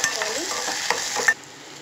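A tempering of mustard seeds, urad dal, cashews, onion, green chillies and curry leaves sizzles in hot oil while being stirred, with a steady crackling fry, a few spoon scrapes, and the sound cutting off abruptly near the end.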